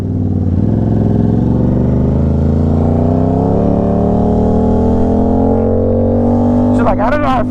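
A motorcycle engine revs up loudly and close, its pitch climbing steadily through the gears, with a rider talking over the engine noise.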